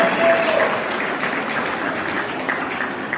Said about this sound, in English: So big round of applause to all the men as well.